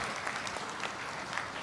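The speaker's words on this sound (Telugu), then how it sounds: "గట్టిగా చప్పట్లు కొట్టి అభినందించండి." An audience at a political party gathering claps steadily and fairly loudly, a dense wash of hands that continues throughout.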